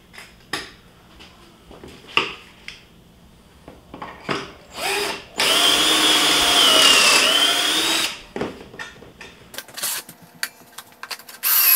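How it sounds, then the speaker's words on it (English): Power drill boring pocket holes into wood in a workshop: short bursts of whirring with clinks between, then a longer sustained high-pitched drilling run of about three seconds, loud and close, followed by more brief bursts and handling clatter. "So I just drilled all those pocket holes into the wrong piece."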